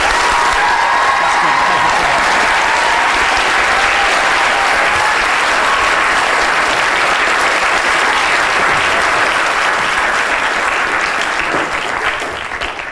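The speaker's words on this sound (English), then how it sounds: "Would everyone give Vince a round of applause?" A lecture audience gives a sustained, loud round of applause, a steady dense wash of many hands clapping that holds evenly from start to finish and tapers slightly at the end.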